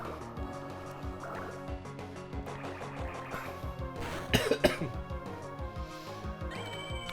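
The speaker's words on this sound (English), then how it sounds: "Try my best to cough and clear my throat away from the mic" A person coughs and clears their throat away from the microphone during a video game session, several short bursts heard faintly over game music and sound effects.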